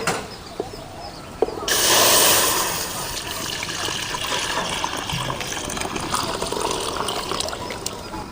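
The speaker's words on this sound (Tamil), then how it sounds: "பால் ஊற்றிக்கலாம்" Milk is poured into a pan in a steady stream, a continuous splashing gush that starts abruptly and keeps flowing.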